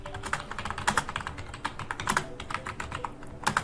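Rapid typing on a computer keyboard during a live stream, with uneven bursts of close, crisp key clicks and a few heavier strokes, and no talking.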